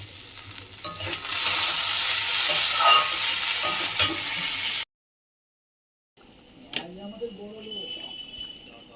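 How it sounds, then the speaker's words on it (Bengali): A pona (rohu) fish tail fries in hot oil with a strong, close sizzle for several seconds. The sound then cuts out briefly and returns as a quieter crackle with some clatter. "সেদিনের পোনা মাছের লেজটা আছে, এটা ভাজবো"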